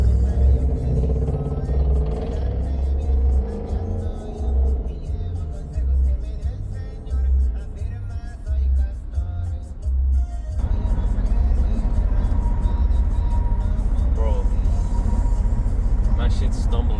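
A rebuilt-title Infiniti G37 idles roughly, its engine stumbling with an uneven, lumpy low rumble that shifts and grows louder partway through, while a person talks over it.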